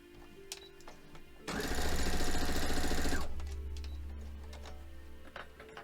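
A sewing machine stitching a quilt block runs in one fast, loud, rhythmic burst of about two seconds, framed by quieter handling clicks and a low hum, no voices.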